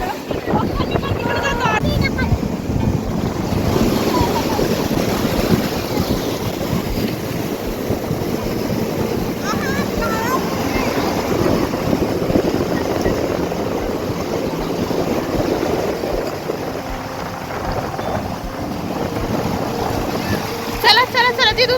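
Large sea waves surge and crash along a narrow stretch of the Konkan coast, a steady loud roar of surf and wind buffeting the microphone, with people talking and calling out over it.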